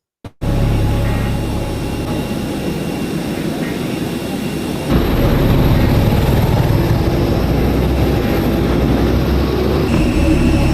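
Aircraft engines roar loudly and steadily as prisoners are taken off planes at an airfield in El Salvador, a constant droning rumble that grows louder midway, with voices faintly mixed in.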